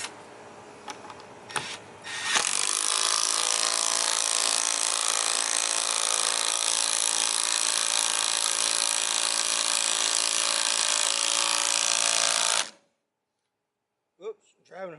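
A Milwaukee M12 cordless driver drives lag bolts into wood, a few clicks and a short burst first, then a loud, sustained, high-pitched whine running unbroken for about ten seconds before stopping abruptly, followed by faint handling noise.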